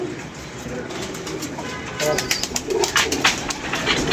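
Pigeons cooing close by, soft repeated throaty coos over a background of chirps and murmuring voices.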